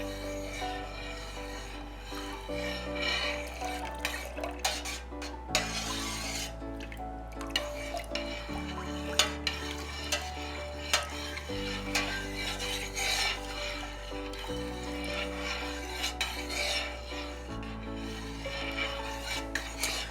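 A spoon stirs milk in a pot as acid is slowly added for homemade mozzarella, giving a continuous soft scraping and rubbing under steady background music.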